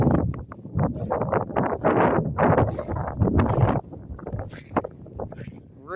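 Gusty wind buffets the microphone at a roadside cemetery near a highway, as broad, roaring surges that rise and fall, with a brief lull near the end.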